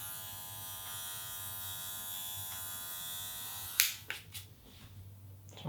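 Electric hair clippers cutting a fade at a barbershop: a steady, close buzz that runs for several seconds, then cuts out into a few sharp clicks and handling knocks.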